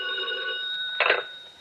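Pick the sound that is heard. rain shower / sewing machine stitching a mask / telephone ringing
telephone ringing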